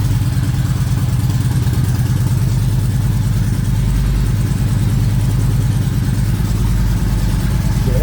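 A 2009 Yamaha V-Star 1300 motorcycle engine idles with a loud, close, steady low-end bellow and an even pulsing thump that holds without revving the whole time.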